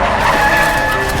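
A truck skids in an alley, a loud, harsh tire screech with heavy engine roar sustained for just over a second, with no talk.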